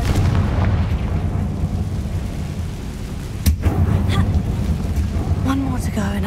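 A Confringo fire spell bursts in Hogwarts Legacy, a single sharp boom cutting through a steady low rumble of game ambience, followed by faint lighter effects.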